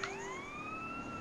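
A police siren in GTA San Andreas, a rising electronic wail that climbs and holds at a steady pitch for about a second, heard alone at moderate volume.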